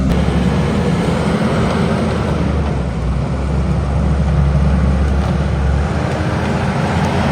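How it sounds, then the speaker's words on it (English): A skid steer works on an equipment landing, its engine a loud, steady, close drone that rumbles on without pause and with no voices. "He is playing in a skid steer, cleaning up our equipment landing"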